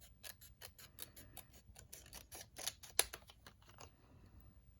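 Paper scissors snip card stock for a Stampin' Up shaker card in a quick series of close, crisp cuts, about a dozen sharp clicks with one louder snap near the end, then quiet.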